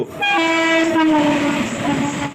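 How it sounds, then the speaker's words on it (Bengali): The Nabadwip Dham–Malda Town Express sounds a loud, close, sustained horn blast as it enters an iron rail bridge, with rumbling rail noise beneath the horn. "নবদ্বীপ ধাম Malda town express iron rail ব্রিজে প্রবেশ করা সেই অসাধারণ দৃশ্য"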